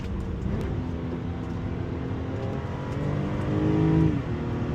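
An Infiniti G37 engine revs up and down through a run of downshifts, its harmonic tones climbing and dropping between gear changes. Loud and steady from an in-car perspective, with a stronger surge near the end and no talking.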